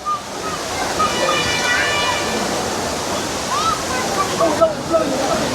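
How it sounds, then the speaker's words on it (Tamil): Steady rushing water pours continuously from a nearby waterfall at Courtallam's Five Falls or Old Courtallam, with faint voices of bathers and chirping birds above the roar. "இங்கேயும் தண்ணி நல்லா ஊற்றுது"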